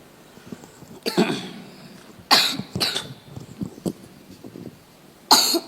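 Several harsh coughs burst out in separate clusters, close to the microphone, with short pauses and quieter throat sounds between them.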